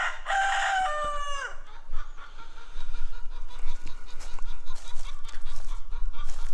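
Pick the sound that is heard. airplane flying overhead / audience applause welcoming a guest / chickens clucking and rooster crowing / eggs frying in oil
chickens clucking and rooster crowing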